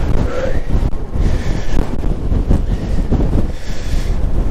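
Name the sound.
strong wind, 40 to 60 km/h, on the microphone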